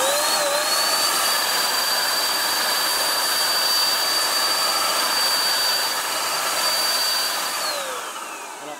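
A TECCPO TAPS02P 500W electric paint spray gun sprays a horizontal jet onto cardboard, giving a loud, steady motor whine and hiss with a high tone that holds throughout and eases off near the end. No one speaks.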